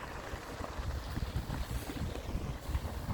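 A cheap £25 dual-motor radio-controlled boat runs on open water, giving a steady rushing, buzzing wash of motor and spray mixed with wind noise on the microphone, continuous and fairly close for the whole stretch with no talking.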